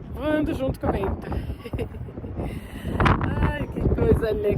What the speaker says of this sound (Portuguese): Que vento louco. Tá levando até o celular embora.